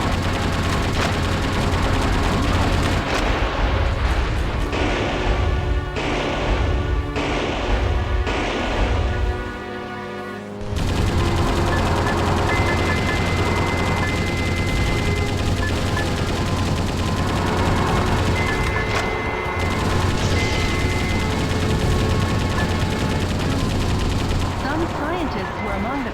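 Heavy, relentless gunfire and explosions in the video game Metal Wolf Chaos XD, loud and dense throughout, with a brief lull partway before the barrage resumes.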